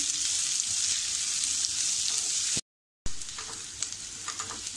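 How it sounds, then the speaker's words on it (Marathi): Onions fry in a pan for chicken Kolhapuri, a dense continuous sizzle broken by a brief gap of silence, with light stirring clicks after it. "हे बघा, आता आपला कांदा छान भाजून झालाय."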